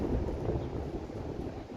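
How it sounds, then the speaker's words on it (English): Steady low rumbling buffeting of wind against a microphone outdoors in Toronto on a windy afternoon, continuous and fairly loud throughout with no voices. "I don't know if you can hear the wind."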